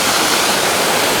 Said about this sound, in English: He climbed up that waterfall, so I don't know how he's gonna get down.